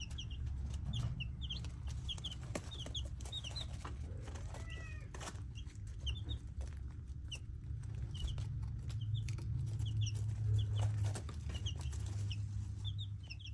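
Baby chicks peck at their feed in a coop, with soft, faint cheeping chirps scattered throughout over a steady low background hum.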